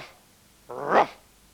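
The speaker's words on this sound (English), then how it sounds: "Dog." One short, gruff dog bark, fairly close and alone against a quiet background.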